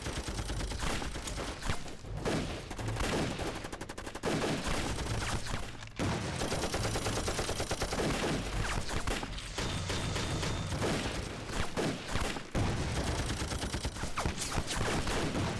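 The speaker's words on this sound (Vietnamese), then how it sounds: "Bắn thật mạnh vào." Sustained gunfire and rapid machine-gun bursts from a war film about resistance against Japanese forces, loud and dense for the whole stretch with heavy overlapping shots and brief gaps between volleys.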